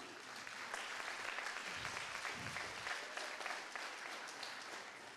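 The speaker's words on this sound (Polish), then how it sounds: "give a round of applause for a higher reading" Audience applause in a conference hall, a dense continuous patter of clapping that holds steady from start to finish with no voices over it.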